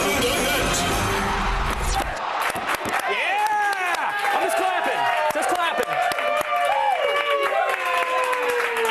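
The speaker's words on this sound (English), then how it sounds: "I'm just clapping." A crowd claps and cheers loudly, with whoops and shouts over steady applause after a brief burst of noise at the start, and voices mixed throughout.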